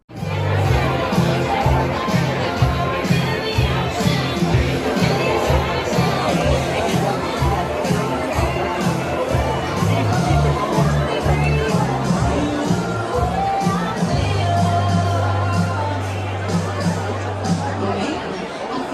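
Dense indoor crowd at a UCP election rally, steady loud chatter and babble filling the room throughout, with scattered cheers and voices rising above the hubbub.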